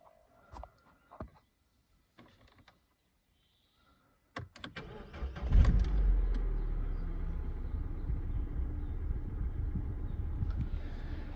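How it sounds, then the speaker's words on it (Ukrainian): A low-mileage Citroen Berlingo 1.6 petrol engine cranks and catches after a few faint clicks, then settles into a steady, close idle that continues to the end. "давайте заведемо машину."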